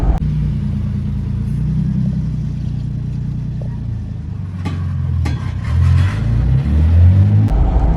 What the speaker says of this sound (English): I love the exhaust notes, nice and quiet.